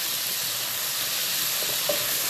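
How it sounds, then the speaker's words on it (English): Ground beef browning in a pan gives a steady, dense sizzle and hiss, close and continuous, with a faint scrape of stirring near the end and no talking. "So the beef is browned."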